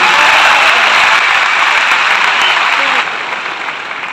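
Loud, sustained applause from a seated audience at a corporate company event in India, a dense wash of clapping that carries on steadily for several seconds before easing slightly near the end.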